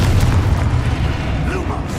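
Confringo blasting spell exploding in the video game Hogwarts Legacy, a loud sustained booming rumble with heavy low-end crackle throughout, voices faintly under it.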